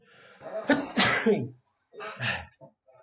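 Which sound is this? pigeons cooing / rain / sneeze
sneeze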